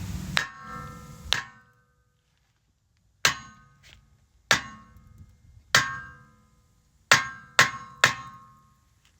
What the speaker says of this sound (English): Get you a hammer. Now be careful not to hit your studs.